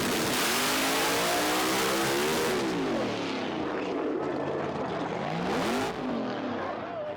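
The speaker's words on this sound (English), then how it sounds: "it lost the tire and it just basically free revved" A race car engine roars loudly and continuously after losing traction on ice, its pitch sweeping up and down as it revs freely, with noisy rushing sound throughout.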